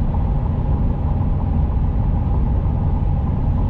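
A 2016 F165 truck cruising around 65 on cruise control, slightly downhill, gives a continuous loud low engine and road rumble from inside the cab, steady with no distinct shift change.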